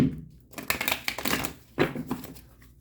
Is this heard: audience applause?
no